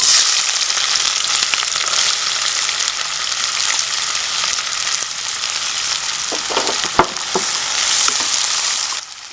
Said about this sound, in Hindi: तो प्याज को हम लोग फ्राई करेंगे अराउंड 5 से 7 मिनट